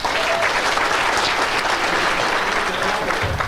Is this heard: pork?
no